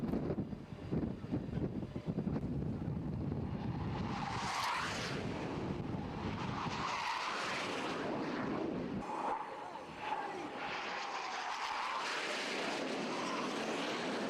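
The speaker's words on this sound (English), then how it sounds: "the Skyhawk still flies with some of the air forces of the world, nearly 50 years after first entering service" An A-4 Skyhawk jet flies past with a broad engine roar that swells and fades over several seconds, mixed with wind noise.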